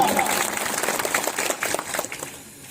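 Audience at a community meeting clapping, a brief burst of dense applause that thins out over a couple of seconds.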